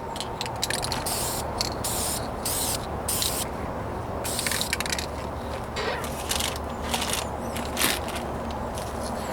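Rattle can spray paint hissing steadily onto the trunk and rear bumper of a 1998 Toyota Corolla during a light first coat, a continuous loud close spray broken by brief pauses between passes.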